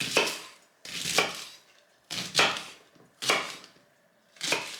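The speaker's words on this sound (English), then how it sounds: "Green onion is ready. So same principle as before. Let's just cut it into little pieces." Green onion is chopped into little pieces with a knife on a board: five distinct bursts of rapid chopping, each a quick flurry of crisp blade strikes with short pauses between, close and clear.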